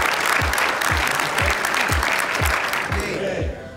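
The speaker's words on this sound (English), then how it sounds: "Round of applause." Audience at a young men of color leadership conference breaks into loud, sustained applause, dense clapping filling the whole stretch before easing slightly at the end.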